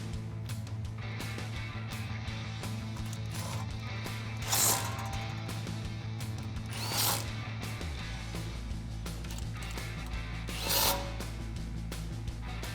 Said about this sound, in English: grab your 8 socket and tighten them down.